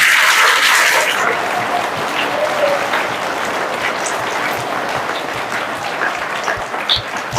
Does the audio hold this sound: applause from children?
yes